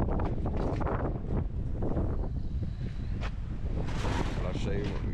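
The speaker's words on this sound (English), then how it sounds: "Oh, that wind is awful." Strong wind buffets the microphone outdoors beside a hay trailer, roaring and gusting continuously and loudly throughout, with a voice speaking briefly under it.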